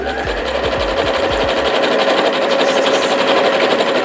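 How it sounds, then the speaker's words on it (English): A sewing machine runs a zigzag stitch across hair extension wefts, a loud, fast, steady mechanical chatter. A few quick starts come first, then continuous close-up stitching with no voices. "set your machine to a zigzag stitch, and then sew it together."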